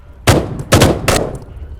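Gunfire from the Intervention weapons library, with three soldiers' different weapons: three loud, sharp shots or short bursts, evenly spaced, each with a brief decaying tail and no voices.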